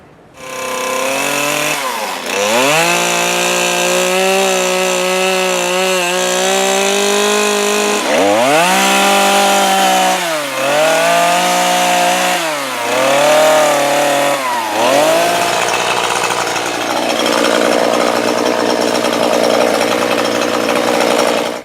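A chainsaw roars loudly, its engine pitch dipping and rising repeatedly as it bites into wood over and over.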